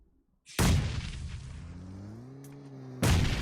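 Grenade blast in a competitive video game tournament match, a sudden loud booming burst that decays into a rumbling tail with harmonic tones, followed by a second heavy impact near the end.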